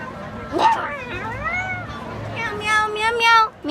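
Several cats living under a car outside the Philippine Embassy give overlapping meows, some rising and drawn out, close and loud, with people talking nearby.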